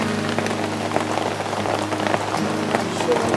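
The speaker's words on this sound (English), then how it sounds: "because it's raining again" Steady rain pours down on Pandin Lake in San Pablo, Laguna, a dense continuous patter of drops close around, with faint low rumbles underneath and no talking.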